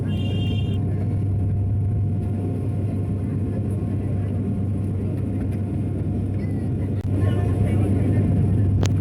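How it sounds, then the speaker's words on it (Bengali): A passenger plane lands at Cox's Bazar airport, heard from inside the cabin as a loud, constant low roar of engines and rumble, with a brief thump near the end. "আমাদের বিমানটা কক্সবাজারের এয়ারপোর্টে ল্যান্ড করলো"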